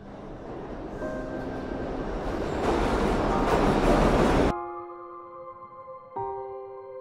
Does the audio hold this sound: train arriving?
yes